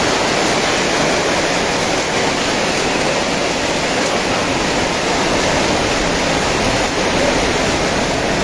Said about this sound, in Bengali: প্রচণ্ডভাবে কিন্তু শিলাবৃষ্টি হচ্ছে, বাতাস বইছে